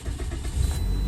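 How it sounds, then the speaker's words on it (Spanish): A Toyota Corolla engine turns over and catches in a short, loud burst of motor noise close by. "yo prendo el carro"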